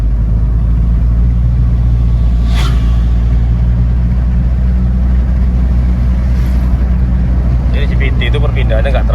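Nissan X-Trail T31 with a CVT automatic pulls away from a standstill in drive, its engine drone steady and loud with smooth acceleration and no distinct shift breaks, while someone talks over it in the cabin.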